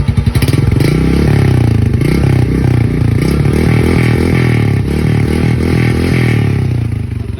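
A motorcycle engine runs loud and close at a steady high idle, its throaty, rapid firing pulses revving continuously with faint mechanical clatter throughout.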